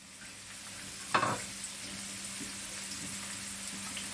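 Tender young garlic shoots frying in heated oil for a paella, a steady hissing sizzle after a single sharp clatter, with faint stirring and no talk.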